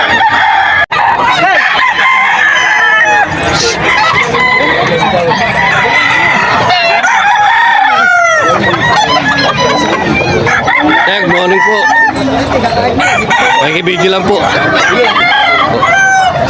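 Roosters crow repeatedly, with clucking fowl, at a busy Bocaue, Bulacan chicken market, under nearby chatter and talk throughout.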